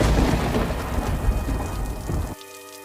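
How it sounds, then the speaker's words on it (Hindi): Steady rain pours down with deep rumbling thunder rolling beneath it, loud and close, then cuts off abruptly near the end, leaving a faint tonal hum. "आसमान में काली घने बादल छा जाते हैं और बारिश शुरू हो जाती है।"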